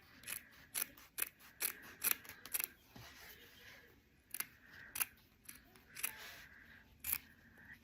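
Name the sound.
scissors cutting linen fabric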